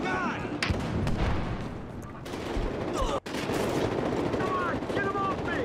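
Heavy automatic gunfire and explosions fill a Battlefield Hardline firefight, a dense, continuous roar of shots with a brief dropout near the middle, over distant shouting players.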